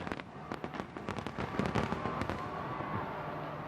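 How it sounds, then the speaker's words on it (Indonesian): A fireworks display bursts around London's Millennium Wheel, with rapid distant cracks and pops that crowd together and swell into a dense, continuous crackle. "Tentu untuk bisa mendapatkan konfigurasi kembang api semacam ini membutuhkan perencanaan yang rumit pasti Widya"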